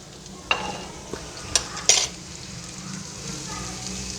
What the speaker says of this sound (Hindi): अब हम गाजरें डाल देंगे सबसे पहले। इसे भी एक मिनट हम अच्छी तरह पहले इसे फ्राई करेंगे।